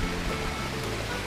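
Steady broadband rush of a river flowing beside a highland campsite at Curug Panjang, Indonesia, a continuous close wash of water with no pauses and no voices.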